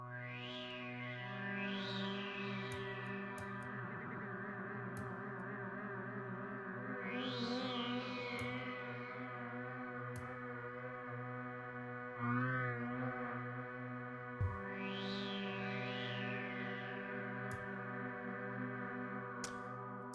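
An Arturia software synthesizer preset plays sustained, distorted chords with a chorused, echoing shimmer and repeated rising pitch sweeps, steady and fairly quiet throughout with no voices.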